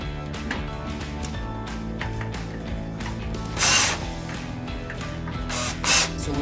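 Power tool whirring continuously at close range while top nuts are loosened on an automatic screen, with two short, louder bursts partway through and near the end.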